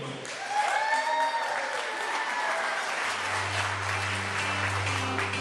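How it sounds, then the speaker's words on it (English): Wedding guests at the Larz Anderson Museum in Boston give a round of applause during bridal party introductions, moderate clapping with faint crowd voices, then a low steady music tone enters partway through. "Give yourself one more big round of applause for coming out to the Larz Anderson Museum."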